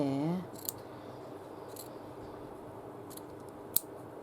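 Scissors snipping fabric or paper for a stitched journal page, heard as a few sharp, isolated cuts spaced over several seconds, close and fairly quiet, after a brief voice at the start.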